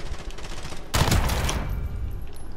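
A shotgun blast in the Call of Duty Modern Warfare beta, a single loud burst near the one-second mark over steady game noise, with no talking.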